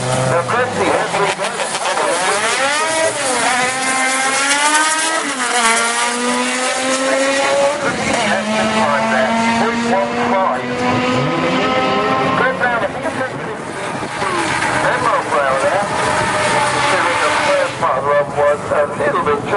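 Front-wheel drive class cars drag racing at Santa Pod during a Japanese car show, engines revving loudly with rising and falling pitch sweeps throughout, under continuous commentator talk.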